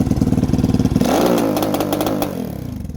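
Lifan KP Mini 300 motorcycle with a ZS175FMN 4-valve engine opened to full throttle, pulsing loudly before surging into a rising rev that holds, then tapers off, close by.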